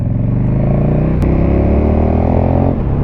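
A KTM 1290 motorcycle fitted with an Akrapovic slip-on exhaust idles and revs loudly up close, a deep throbbing engine note that climbs with throttle blips and settles, with no talking.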